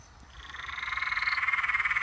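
A night chorus of frogs pulses in rapid, rising trills, loud and close, with a fast rhythmic croaking that swells over two seconds.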